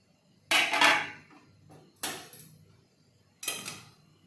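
Mutton yakhni pulao is dished out from a pressure cooker, with three sharp, close metallic clatters of utensils against dishes, each about a second and a half apart and fading quickly into quiet.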